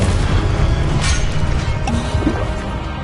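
A Confringo fire spell blast in Hogwarts Legacy lands with a dense, loud booming crash and a smashing impact amid continuous roaring combat noise, with no talking.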